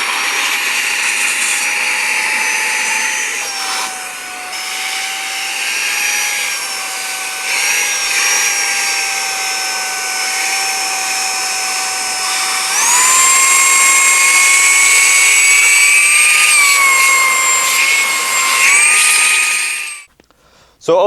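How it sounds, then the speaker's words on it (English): An XCool handheld vacuum runs steadily in normal mode, its small motor giving a loud, continuous high whine that steps up in pitch midway and then cuts off abruptly near the end, with no talk over it. "It is very loud. It's a little motor spinning up,"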